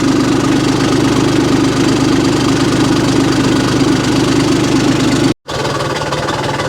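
A Kioti diesel engine in a Cushman side-by-side runs rough and uneven, a loud steady chug with knocking, cutting out for an instant before picking back up.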